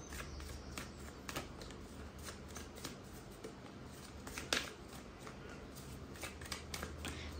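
Tarot cards are shuffled close by in soft, irregular riffling bursts and slides, quiet and dry with faint background noise and no talking.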